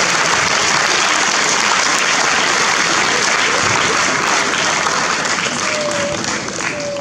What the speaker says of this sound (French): On peut les applaudir encore une fois.